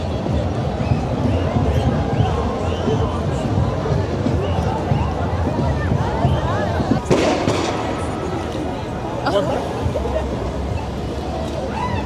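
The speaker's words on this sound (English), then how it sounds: "People are still, using their own crackers, firecrackers." Firecrackers set off by people in a packed Yonge-Dundas Square, Toronto on New Year's Eve, popping and crackling through a dense crowd roar, with one sharp close bang midway and another later.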